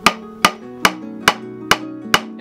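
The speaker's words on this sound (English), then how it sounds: "I'm going to start hammering it in at that angle." A hammer driving a chicken staple into wood, six sharp, ringing metallic strikes at an even pace, each with a short resonant tail, close and loud.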